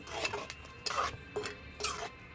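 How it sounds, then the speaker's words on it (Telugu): A ladle stirring red gram and amaranth curry in a pot, giving three or four short, soft scraping strokes in an even rhythm, close up and fairly quiet. "మొత్తం అంతా గరిటతో ఒకసారి కలి తిప్పాలండి"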